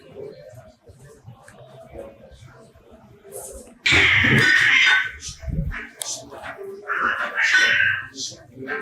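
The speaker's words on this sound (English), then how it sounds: "Cats are fighting in the alleyway." Cats fighting in an alleyway at night in a Turkish tourist town, starting with low growls, then a sudden loud yowling screech and rising caterwauls that come and go, with a person talking faintly in places.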